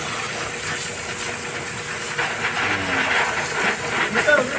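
A cheap pressure washer used for car washing sprays with a loud, continuous hiss that pulses slightly in strength, with voices faintly underneath.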